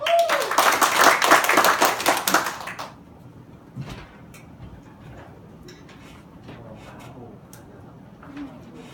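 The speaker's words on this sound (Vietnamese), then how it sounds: "Các anh chị có thể cho Say một tràng vỗ tay được không ạ?" Class applause in an online marketing training session: a burst of lively clapping for about three seconds that quickly dies away, followed by quiet room sounds and a few faint taps.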